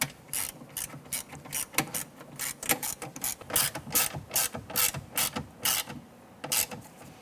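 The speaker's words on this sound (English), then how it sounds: "and then we'll go ahead and snug those down." Ratchet snugging bolts on the rear window regulator of a 2015-2020 Cadillac Escalade, a close, steady run of quick rhythmic clicking strokes in short bursts with no talk.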